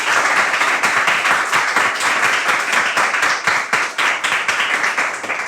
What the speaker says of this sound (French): on s'applaudit très, très, très, très fort.